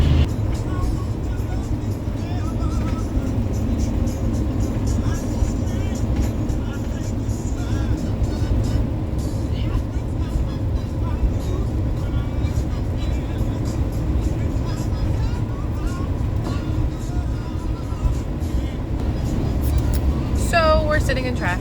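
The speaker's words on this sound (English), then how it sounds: "It looks like rush hour traffic. So we're sitting on an exit ramp to get onto the freeway" Rush hour road traffic heard from a vehicle sitting on a freeway exit ramp in rainy weather, a steady low rumble of engines and tires running throughout with faint passing swells.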